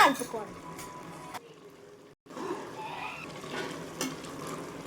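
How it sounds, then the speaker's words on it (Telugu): A goat tripe (boti) curry with chili powder and salt is stirred as it fries in a pot. Soft sizzling and scraping run under a voice, with a brief quiet pause midway. "ఇప్పుడు మరీ ఒకసారి మంచిగా కలపాలి"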